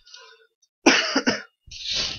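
A person coughs a couple of times up close, short harsh bursts separated by a brief pause.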